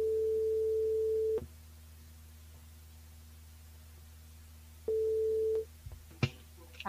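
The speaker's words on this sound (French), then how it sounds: "Après, on appelle Nathalie." Telephone line tones as a radio show dials a listener: a steady pure ringback tone sounds, pauses for several seconds of faint line hiss, then sounds again before clicks as the call connects.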